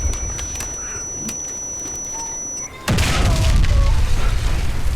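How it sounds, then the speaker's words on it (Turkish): A loud bomb explosion in the video game Warface bursts out about halfway through, then gives way to a sustained rumbling roar. Quieter game sounds and faint chirps come before it. "Bomba patladı."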